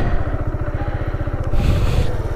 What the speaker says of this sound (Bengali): বাইকের ইঞ্জিন সাউন্ডটা একটু আপনাদের সাথে শেয়ার করি